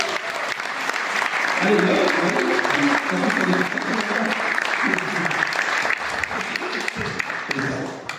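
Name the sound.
audience applause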